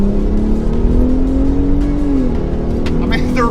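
Engine of a 2025 Ford Raptor truck pulls hard under acceleration, a steady loud drone that rises slightly in pitch, with faint voices over it.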